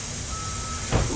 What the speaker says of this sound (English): sounds like we just had another vehicle dropped off by a tow truck out front.